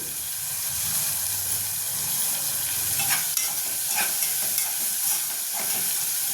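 Grated ginger and garlic fry in hot oil in a pan, a loud continuous sizzle and hiss close by, with a few stirring scrapes partway through.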